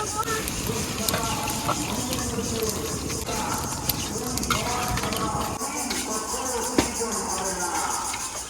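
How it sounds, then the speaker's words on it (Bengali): Beef and pumpkin sizzle and fry in a pan, with a steady crackling hiss of hot oil and stirring, heard under a person talking. "এখন পানি দিয়ে দেবো।"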